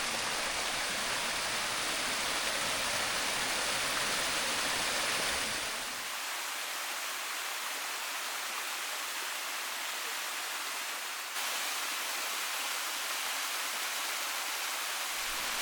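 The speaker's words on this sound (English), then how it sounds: "look at this water running off here" Rain-fed water rushes steadily off a wet forest trail on a rainy day, a broad, continuous close-up roar of running water without any voices.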